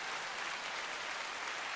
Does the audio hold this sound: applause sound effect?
yes